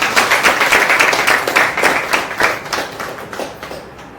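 Audience clapping during a motivational talk, a loud rhythmic burst of hand claps that holds steady for several seconds before thinning and fading out at the end.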